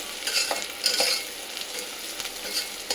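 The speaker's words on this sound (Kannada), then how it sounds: "ನೆಕ್ಸ್ಟು ಮೆಣಸಿನ್ಕಾಯಿ ಹಾಕ್ತಾ ಇದ್ದೀನಿ" Green chillies tossed into onions already frying in oil, a close crackling sizzle with scraping stirs and a few brighter spits.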